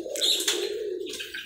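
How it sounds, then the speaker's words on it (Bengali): Pet pigeons coo softly nearby, a low steady hum with a few brief chirpy notes on top, heard alone. "যে কবুতর আমি এখানে পুষবো তার সবগুলোই উন্মুক্ত থাকবে"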